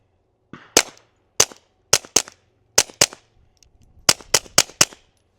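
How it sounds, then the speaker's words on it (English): A suppressed .22 pistol fires into a cardboard backstop at close range. Roughly a dozen sharp, dry cracks come singly and in quick pairs with short pauses between, each with a brief thump, against near silence. "You end up hearing the thump of the bullet hitting cardboard or the backstop more than you actually hear a gunshot report"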